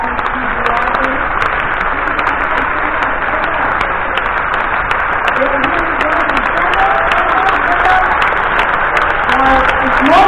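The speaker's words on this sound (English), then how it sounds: "So I would like a big, big applause" Audience applause at the opening of the Science on Stage festival, a dense, steady clapping from a large crowd with some voices murmuring underneath, continuing evenly throughout.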